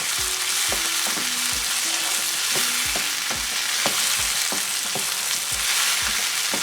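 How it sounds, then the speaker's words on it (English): Chopped tomatoes fry in a pan for mutton dum biryani, a continuous soft sizzle broken by regular knocks of a spoon against the pan, with a faint tonal whine in between. "I'll just add in my chopped tomatoes."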